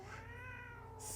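A vocal pet cat meows once indoors, a drawn-out, close, fairly quiet cry with a wavering pitch that ends in a brief hiss of noise.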